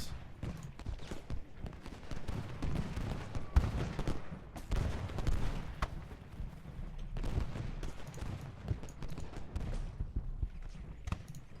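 Massed musket volleys from battle units in the Ultimate General: Gettysburg strategy game crackle as dense, continuous distant gunfire with scattered sharper pops, a low rumbling battlefield din throughout.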